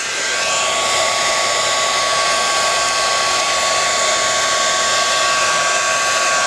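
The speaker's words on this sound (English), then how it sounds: "So I'm going to keep drying this and I'll come back." A heat tool blows hot air onto ink on an art journal page, giving a loud, steady whooshing hiss with a faint whine that runs unbroken from start to finish, with no voices.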